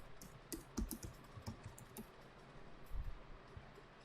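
Keystrokes on a computer keyboard as a password is entered, a run of quiet, close clicks and taps coming in irregular bursts, with no voices.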